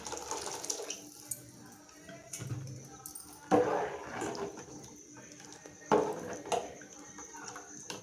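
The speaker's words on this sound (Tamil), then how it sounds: "இப்போ இதுக்கு தேவையான அளவு தண்ணி சேர்த்துக்கலாம்." Water splashes and gurgles as it is poured into a pot of dried fish curry, with a few louder sloshing bursts and quieter trickling between them.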